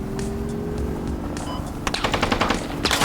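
Rapid automatic gunfire in the video game Squad erupts in bursts over a steady background hum, growing denser and louder toward the end.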